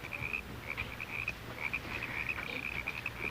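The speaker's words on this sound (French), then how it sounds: "c'est le chant des grenouilles" A chorus of frogs croaks in rapid, repeated trills in a forest setting, steady and moderately distant with a low background hum.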